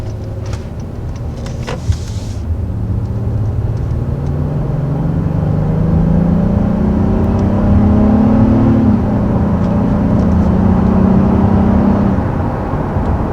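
A 2020 Honda Passport's naturally aspirated engine pulls smoothly up to 60 mph, a steady, rising engine drone with one gear shift partway, heard from inside the cabin with no talking.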